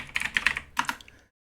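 A username and password are typed on a computer keyboard in a short, close burst of crisp key clicks lasting just over a second, followed by silence.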